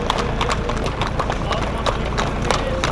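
Horses pull fiacre carriages in a procession with riding clubs and a folk wedding in Mačva, their hooves striking in a busy, steady clip-clop with a person talking over it.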